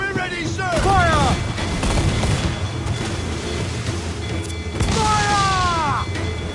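Repeated booming cannon volleys from a pirate ship broadside in Assassin's Creed Black Flag, loud and heavy, with shouted orders and crew voices between the blasts.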